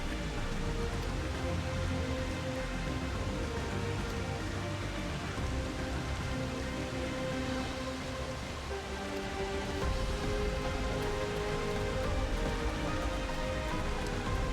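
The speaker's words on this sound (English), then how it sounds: "Wait, no, it started raining." Steady rain in the video game Dawntrail falls and patters continuously on surfaces, an even wash of drops with no pauses and no voices.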